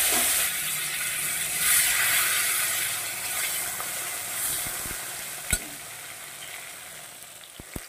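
Tomato and green chillies drop into very hot oil with whole cumin already tempered. A steady, loud sizzle of frying runs throughout, with a couple of faint utensil clicks near the end.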